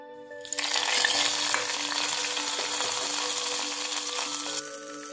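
Garlic, mustard seeds and red chillies hit hot oil for a tadka, bursting into a loud, continuous sizzle that holds steady for several seconds before easing, with no talking.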